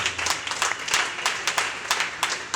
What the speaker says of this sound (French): Est-ce qu'on peut encore applaudir pour la parole que nous avons eue?